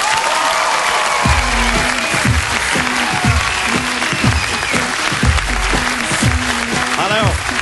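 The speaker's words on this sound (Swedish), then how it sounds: "Ge en stor applåd till Johan Glans!" Loud, close audience applause at a live comedy show greeting comedian Johan Glans, steady dense clapping with rhythmic thumping beneath and a voice briefly breaking through near the end.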